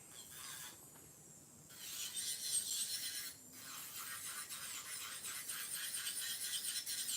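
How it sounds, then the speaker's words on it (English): Electric nail drill with a band bit buffing acrylic nails and cuticles at close range: a steady, fairly quiet hiss that briefly stops and restarts, with no talking. "All I'm doing now is just sealing the cuticles with this band, with this drill bit."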